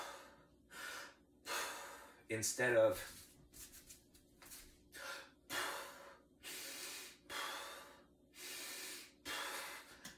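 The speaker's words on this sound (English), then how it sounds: "breathing with your belly uses less energy than breathing with your shoulders" Someone demonstrates shoulder breathing versus belly breathing, with a run of loud, evenly spaced breaths, each a clear airy rush in or out, and a brief gasping catch early on, plus a few spoken words.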